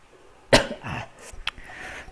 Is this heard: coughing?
yes